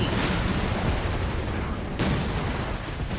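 Sherman tank fire and grenade blasts in the World War II strategy game Company of Heroes 3 form a dense, loud rumble of explosions and gunfire. A sharp burst sounds near the middle.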